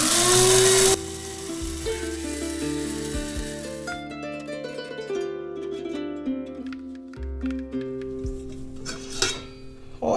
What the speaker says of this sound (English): I just use this old coffee grinder that I've designated as my spice